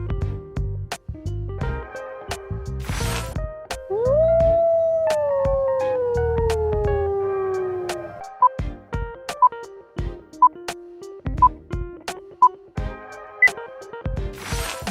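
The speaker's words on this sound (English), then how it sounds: "Wolf." A wolf howls alone, one long rising and then falling howl of a few seconds, close and clear, with faint clicking and quieter sounds before and after.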